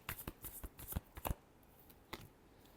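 Tarot cards being shuffled by hand in a quick burst of riffling flicks and slaps over the first second and a half, then one more sharp snap, close and crisp with no voices.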